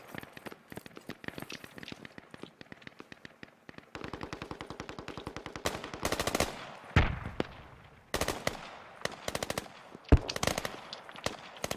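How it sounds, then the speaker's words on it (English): Bursts of AK rifle fire in the video game Squad, rapid automatic volleys of sharp cracks in rhythmic strings, some distant and some louder and closer, with short pauses between bursts. "That sounds like AK fire coming from southwest"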